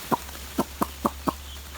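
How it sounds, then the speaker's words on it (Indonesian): One-day-old broiler chicks cheeping up close: five short, sharp peeps in an uneven rhythm over a low steady hum. "Jadi ayam broiler ini dia usia namanya umur 1 hari."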